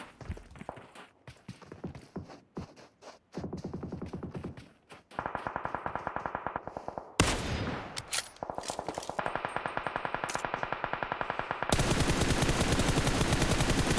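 Gunfire from the mobile battle royale game PUBG Mobile during competitive squad scrims: bursts of rapid automatic shots and single cracks, loud and close, with clattering in-game effects between volleys.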